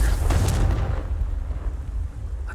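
A Confringo blasting spell explodes in the Hogwarts Legacy video game: a loud, deep boom that bursts at the start, then rolls off into a long low rumble that fades slowly over a couple of seconds.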